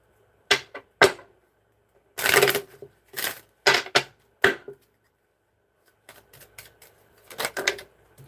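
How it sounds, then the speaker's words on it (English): Tarot cards shuffled in quick bursts during a psychic reading, a few sharp riffling flicks and then a longer crisp flutter of cards, repeated with short pauses, close and fairly loud with no talking. "Give me one more shuffle."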